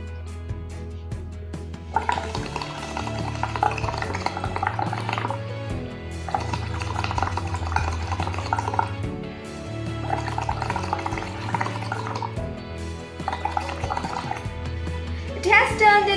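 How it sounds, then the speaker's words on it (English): Bubbles blown through a straw into a glass of lime water, gurgling in several bursts of a few seconds each, separated by short pauses, close and fairly loud. "First I will blow into lime water."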